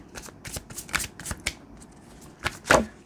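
Tarot cards being shuffled by hand, with a run of quick papery riffling bursts close up, a brief pause, then a louder final shuffle, and no one talking.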